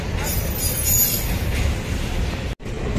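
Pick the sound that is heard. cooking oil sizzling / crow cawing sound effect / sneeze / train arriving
train arriving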